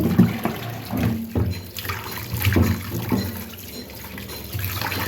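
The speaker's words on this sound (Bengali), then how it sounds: "মাছগুলো হলুদ একটু ধুয়ে নিচ্ছি" Pond fish (tilapia, rohu and kalibaus) are washed with turmeric in water, giving continuous close splashing and trickling with soft handling bursts throughout.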